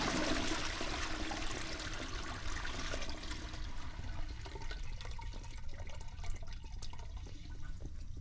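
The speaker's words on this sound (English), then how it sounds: "recording every stupid sound in the house, particularly the water flush" A household toilet flush, recorded as a sound effect for a video game, opens with a loud rushing gush of water that gradually settles into a quieter trickle and gurgle.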